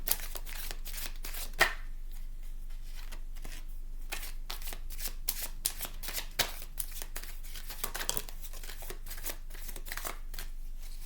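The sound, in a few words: shuffling tarot cards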